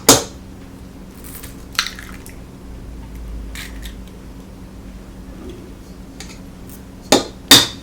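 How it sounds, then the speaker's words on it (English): Two eggs cracked into a meatloaf mixture of ground meat and seasonings, with sharp shell taps at the start and end and a soft wet squish between, close by with no talking. "And I'm going to crack in my 2 eggs."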